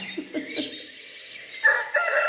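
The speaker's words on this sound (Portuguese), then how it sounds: "Olha aí o galo despertando a gente, né? Cantando pra gente, dizendo mais um dia." A rooster crows in the early morning, two or three rising calls followed by a sustained, strident crow, fairly close and clear with no talking over it.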